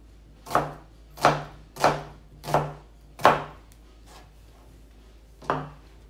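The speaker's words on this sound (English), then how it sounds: "And now I'm gonna cut onion" Six sharp knife chops on a cutting board as an onion is sliced thin for a crab salad, five in a steady rhythm about two-thirds of a second apart, then a pause and one final chop, close and clear with no talking.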